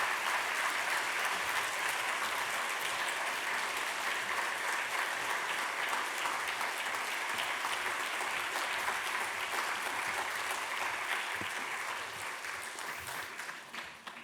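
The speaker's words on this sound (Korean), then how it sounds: "우리 큰 박수로 나오실 때까지" A church congregation at a Sunday service gives steady, sustained applause to welcome a guest pastor. The clapping holds for over ten seconds and thins slightly at the end.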